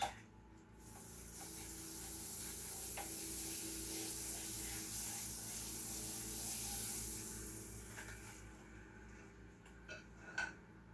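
Butter sizzling on a hot griddle in a home kitchen, a steady moderate hiss that swells and then fades, with a couple of faint clicks of utensils toward the end.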